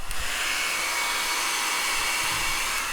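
A hair dryer set to its lowest setting blows continuously on a polymer clay sculpture, a steady close, even roar of rushing air holding constant throughout with a faint whine on top and no speech.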